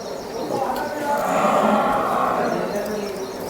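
A Murrah buffalo gives a long, low, drawn-out moo over steady farmyard background noise.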